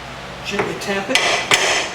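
A few light metallic taps from a tool striking the front lower ball joint of a 2002 Jeep Liberty, three or four close, sharp strikes spaced about a third of a second apart.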